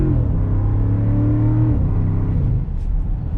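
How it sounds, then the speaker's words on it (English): A 2022 Land Rover Defender 110 Carpathian Edition with a V8 revs hard under acceleration, its engine note climbing and then dropping as the automatic gearbox makes a quick shift, loud and close from inside. "It's really impressive how fast this thing shifts."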